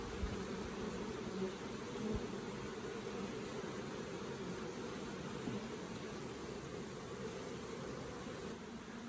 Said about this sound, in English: look at those bees go